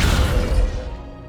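A Descendo spell from Hogwarts Legacy lands as a heavy crashing slam, a loud, dense rumble of impact noise that fades steadily over about a second.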